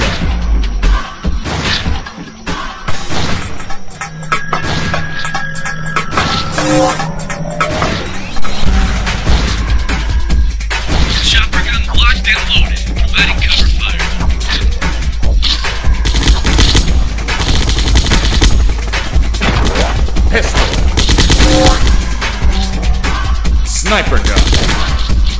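Repeated shotgun blasts from the zombie shooter flash game Zombocalypse, loud and dense, overlapping with game booms and crashes in a busy, continuous barrage.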